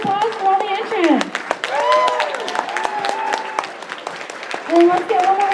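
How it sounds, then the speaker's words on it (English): Audience applause for cosplay contest entrants fills a convention hall, sustained dense clapping with scattered cheers and whoops rising over it. "One more round of applause for all the entrants."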